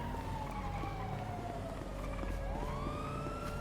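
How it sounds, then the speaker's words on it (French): Police siren inside the GTA video game, a wailing tone sweeping up and down continuously, fairly prominent over a low, steady rumble of traffic and engine noise. "Il y a une sirène là."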